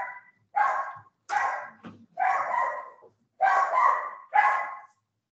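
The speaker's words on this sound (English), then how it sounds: "as soon as the dogs see something, they go crazy" Dogs barking in a series of five or six sharp, loud barks in quick succession with brief pauses between them, close by and without talk over them.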